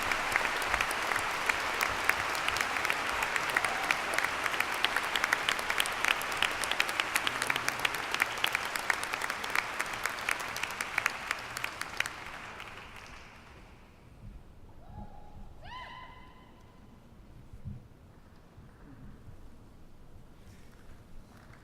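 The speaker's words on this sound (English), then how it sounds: "one final round of applause for all of our scholarship winners" Commencement crowd at a law school graduation applauding its scholarship winners, a broad sustained clapping for about twelve seconds that fades out, leaving a quiet room with a few faint tonal sounds afterward.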